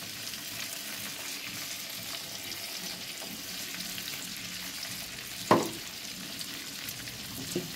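Spice mix for a Bengali amla pickle lands in hot oil with the heat switched off: a soft, steady sizzle throughout, one sharp clunk a little past the midpoint, and a faint knock near the end, with no talking.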